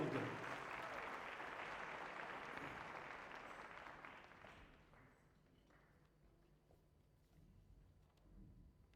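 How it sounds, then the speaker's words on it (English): A navy gala concert audience applauds the bandmaster in a big hall, a loud dense ovation that gradually fades and thins out toward the end. "Another big round of applause for Bandmaster Waranoftak Llewellyn Arnold."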